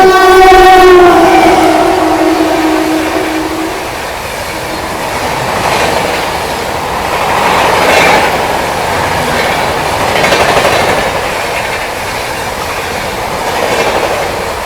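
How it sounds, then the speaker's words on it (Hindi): The Jammu Mail express rushes past at high speed, its horn sounding briefly at the start before a loud, rolling roar of wagons and rhythmic wheel clatter that swells and fades. "श्री माता वैष्णो देवी कटरा सूबेदारगंज जम्मू मेल क्या निकली है भाई गजब की रफ्तार में"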